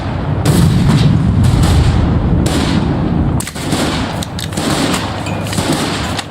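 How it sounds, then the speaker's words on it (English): Heavy gunfire in the war game Foxhole pounds a bunker, with dense overlapping shots and booming bursts that stay loud throughout, briefly dropping before rapid fire resumes. "Shoot the bunker."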